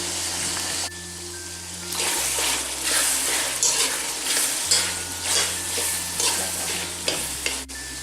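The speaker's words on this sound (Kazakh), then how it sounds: "Туралған бауырымызды қазанға салып, қайтадан қуырамыз." Chopped liver fries in a pot and is stirred, giving a continuous close sizzle with scraping stir strokes over a low steady hum, with no talk.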